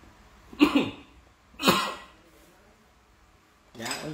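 A woman coughs three times during a live online sale of ceramics, each a short, harsh burst spaced about a second apart, with a quiet pause between the last two.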